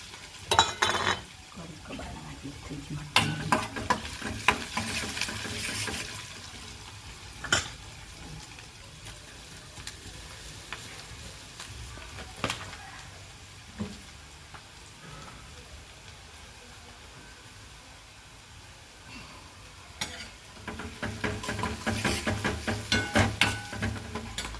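Chili and ginger-garlic-chili paste frying in a pan for a cucumber curry, with a soft sizzle throughout, frequent clinks and scrapes of a utensil on the pan, and a louder burst of sizzling toward the end.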